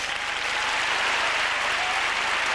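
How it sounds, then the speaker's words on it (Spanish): Sustained audience applause for tow truck drivers at a live comedy show, a dense, even wash of many hands clapping throughout, loud and steady with no talk over it. "se merecen un fuerte aplauso los grueros"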